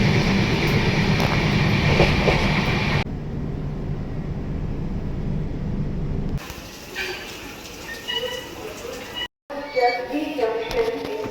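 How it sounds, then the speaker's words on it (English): A train pulls into Visakhapatnam railway station at night. A loud, steady rolling rumble gives way to quieter platform ambience, then close clattering and knocks with bits of background voices. "it's Vishakhapatnam station. Our train has come 10-20 minutes early"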